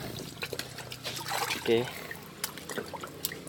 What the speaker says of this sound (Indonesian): Nih kita cuci dulu guys. Biar bersih deh, ada tanah-tanahnya kan dari ladang.